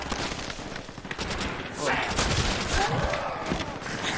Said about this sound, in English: someone's shooting him out the window